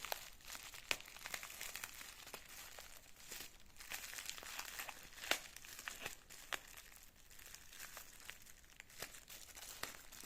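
A stuck-on package wrapping is torn open during an unboxing, giving a faint, continuous crinkling and ripping of plastic and paper with scattered sharper snaps over about ten seconds, no talking.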